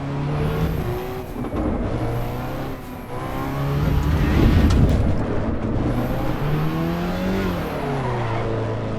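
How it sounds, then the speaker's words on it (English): Race car engine in the Assetto Corsa EVO racing game, loud and continuous, revving up and down through gear changes with a build around the middle, crackling backfires mixed in, no talking. "I do like the backfire noises."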